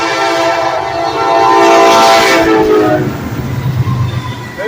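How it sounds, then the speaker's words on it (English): A coal freight train rolls past on the main line near the Savannah River at Calhoun Falls, South Carolina, sounding a long, loud horn blast over the heavy rumble of the passing cars, with no voices. "We got a train on the main line."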